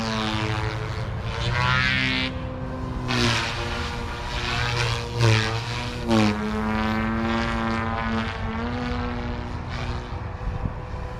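OMP Hobby M4 RC helicopter motor in flight at high head speed: a loud whining drone whose pitch rises and falls as the craft climbs, dives and passes, with no voices over it.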